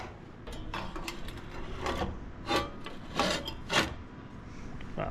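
Welded controller being slid into place inside a scooter, a series of scraping, rubbing slides with several louder rasping pushes near the end, close and fairly quiet.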